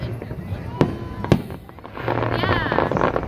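Fireworks at a July 4th show crack in two sharp bangs, followed by a louder, crackling rumble, heard among a crowd.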